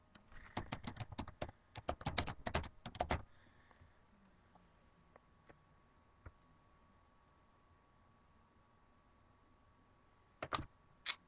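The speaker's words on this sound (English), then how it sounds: "just let me type it in" Rapid bursts of typing on a computer keyboard, a dense run of close, crisp key clicks for a few seconds, then near silence with scattered faint taps, and a short final flurry of keystrokes.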